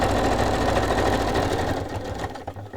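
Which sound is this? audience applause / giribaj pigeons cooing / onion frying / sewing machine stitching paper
sewing machine stitching paper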